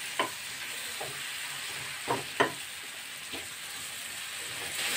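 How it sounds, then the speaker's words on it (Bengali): Mushrooms lightly fried in butter crackle faintly in a pan, with a few soft scrape-and-tap stirring sounds spaced out over a low, steady sizzle. "শুধু একটু বাটারের সঙ্গে মাখিয়ে নেব, হালকা করে ফ্রাই করব"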